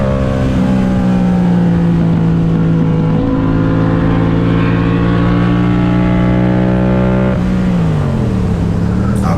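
Loud, continuous roar of racing motorcycles on the Brasília racetrack during a trackday, steady pitch briefly dipping and climbing again near the end, machines running hard at speed close by.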